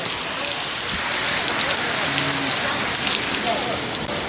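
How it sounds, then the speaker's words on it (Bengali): Sudden heavy rain pours down in Singapore's Chinatown, heard from an overbridge built in the 1980s, a loud, steady hiss of drops striking surfaces with a faint low hum underneath. "চায়না টাউনে আসার পর এখানে বৃষ্টি শুরু হয়ে গেছে।"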